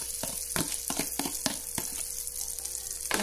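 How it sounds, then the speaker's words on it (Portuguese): An egg fries in butter in a frying pan, a constant close sizzle punctuated by sharp crackles and pops and the scrape of stirring, with no talking. "E aí eu já venho com o ovo aqui e vou colocar aqui nessa frigideira"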